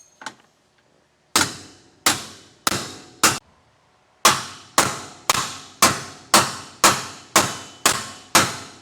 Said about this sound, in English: if you get to a point where you're sitting there hammering on it and it just will not go in